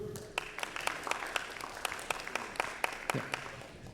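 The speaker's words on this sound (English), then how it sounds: "a round of applause for Corpus Core" An audience gives a round of applause after a startup pitch event, steady scattered clapping throughout at moderate loudness.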